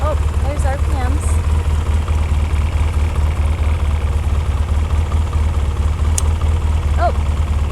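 An old Polaris ATV engine runs close by with a steady low rumble, with a few faint rises in speed and occasional background voices over the continuous drone.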